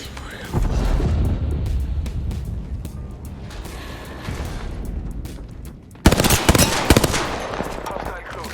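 Rapid bursts of automatic gunfire from enemies in Apex Legends ring out loudly and almost continuously, with a sharper, harder volley near the end and a voice speaking briefly amid the shooting.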